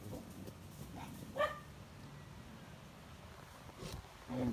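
A dog barks a couple of times at a moderate distance, a short bark early and another near the end, over low background noise with faint voices.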